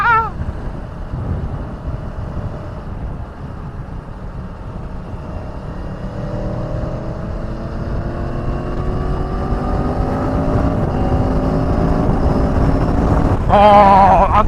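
A sport motorcycle with a quick shifter, ridden on the road, accelerates hard with rising engine pitch through successive gears, its roar mixed with heavy wind buffeting at the microphone.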